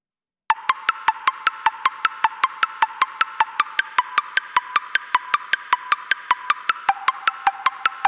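Arpeggiated high-pitched 808-sample pluck programmed in FL Studio: a fast, steady stream of short, bright, near plucked notes, about four per second, shifting pitch slightly as chords change, alone without talk.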